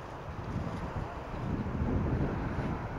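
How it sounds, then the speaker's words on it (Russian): Steady low, rumbling wind buffeting the microphone, continuous and fairly loud throughout with no voices. "Волна у нас, правда, ветер."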